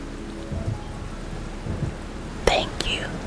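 Steady rain falls as a soft continuous hiss, with faint low rumbles and a couple of sharp brief crackles near the end; gentle and close, no speech.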